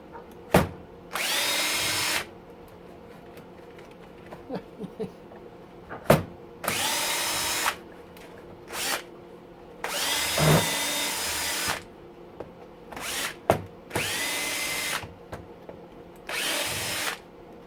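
A power drill with a slightly oversized bit whirs in short bursts while taking apart a booster pack, stopping and starting repeatedly, with clicks and knocks between runs, close by and no voices.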